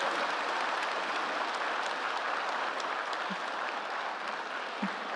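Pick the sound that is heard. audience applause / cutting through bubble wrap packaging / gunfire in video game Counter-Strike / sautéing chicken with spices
audience applause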